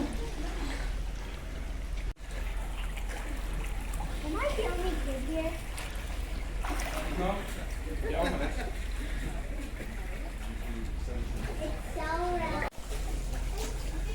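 Water splashing and dripping inside a cave at the secret lagoon in Palawan, Philippines, a soft constant wash with scattered splashes, while people, including a child, talk and echo in the background.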